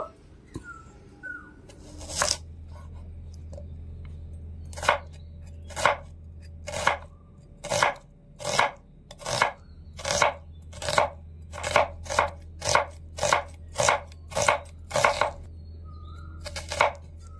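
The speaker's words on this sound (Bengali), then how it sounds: "এবারে পেঁয়াজটা একটুখানি মোটা মোটা করে কুচিয়ে নেব।" Two onions are chopped coarsely with a knife on a board, giving a long run of sharp, evenly spaced thuds that speed into a quick steady rhythm, close and clear over a low background hum.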